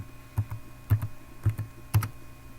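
A computer keyboard clacks as a password is typed: four separate clusters of double keystrokes spaced about half a second apart, close and crisp over a quiet room hum.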